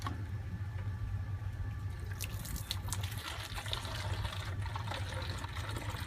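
Water runs steadily into a 2-liter plastic jug, a continuous splashing flow with a few brighter trickling spurts partway through, close and alone with no talk.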